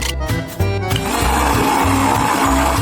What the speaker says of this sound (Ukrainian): після чого закинути в блендер і перетворити її на пюре